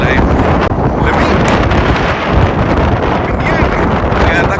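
Cold outdoor wind buffets the microphone in a loud, continuous roar that rumbles and gusts throughout.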